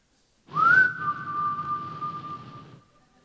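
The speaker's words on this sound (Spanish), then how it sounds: "el silbido del buen pastor" A single clear whistle rises briefly then holds a steady tone for about two seconds, sounding close, with a faint low murmur underneath.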